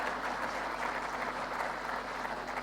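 A crowd claps steadily at a ceremony addressed by Pakistan's Prime Minister Shahbaz Sharif, a dense, even wash of applause heard from a distance without pause.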